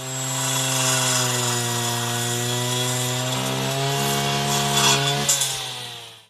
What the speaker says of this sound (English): Rotating cutting tool of the weeder throws small stones and pebbles on the front side.